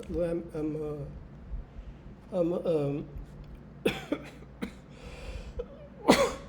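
Several short, sharp asthmatic coughs in scattered bursts between stretches of a nearby voice, ending with a louder, harsher cough.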